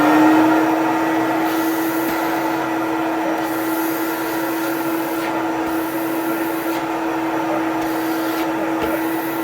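Big Green Machine carpet cleaner running its suction, a loud, steady motor drone with a sustained whine, close and continuous, with no talking.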